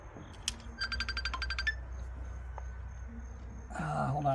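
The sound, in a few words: phone ringtone, incoming call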